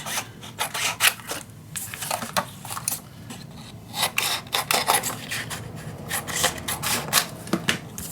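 Paper being burnished down with a tool for a handmade mini album, giving repeated close, scratchy rubbing strokes in quick irregular bursts.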